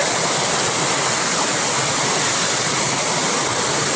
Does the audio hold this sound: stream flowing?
yes